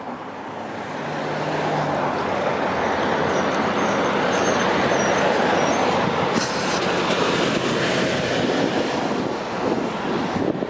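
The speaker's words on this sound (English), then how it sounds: "I see a commuter train heading east" An eastbound commuter train bound for Union Station rolls past near Park Lawn Road in Toronto's Humber Bay area, Etobicoke, as a loud, steady roar of wheels on rails with faint squeals that lasts throughout.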